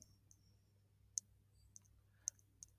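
Computer mouse clicks while working through an online shop admin panel, five sharp isolated clicks spaced irregularly over a quiet low hum, close and crisp, no talking.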